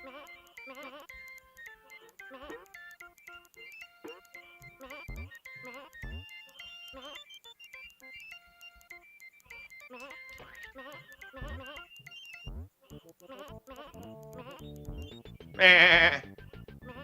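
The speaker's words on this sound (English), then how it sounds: "Sheep? Get out of here, sheep!" A sheep in the video game Bubsy lets out one loud, short bleat near the end, above quiet plucky game music and sound effects.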